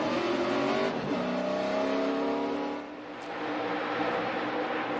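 A NASCAR race car engine refired during the 2012 race at Michigan, a loud continuous engine drone that shifts pitch and dips briefly before picking back up.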